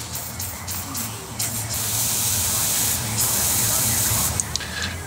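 A close, steady aerosol spray of penetrating oil hisses in long bursts onto heated threads during Ford Super Duty shock and spring replacement, over a low background hum, with brief pauses between blasts.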